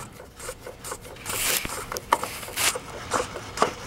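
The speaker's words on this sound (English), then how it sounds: "Next, loosen the lid off by hand." Plastic fuel filter bowl lid on a Dodge Ram Cummins diesel being unscrewed by hand, close, soft scraping and rubbing with a few small clicks and gritty turns.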